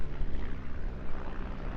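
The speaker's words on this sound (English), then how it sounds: "displaying absolutely wonderfully just how manoeuvrable these aircraft are" Display aircraft flying turns and rolls at the Eastbourne International Airshow, a continuous loud engine roar with a fluctuating, rumbling drone.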